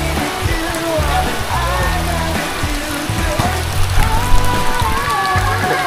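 Steady rain patters on surfaces, with a dense continuous hiss and scattered drips, while faint background sounds mix underneath.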